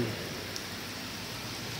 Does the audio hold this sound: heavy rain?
yes